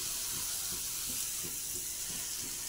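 Sprouted-grain thalipeeth flatbread sizzles on a hot griddle, a steady bright hiss of frying that carries on evenly with no talking.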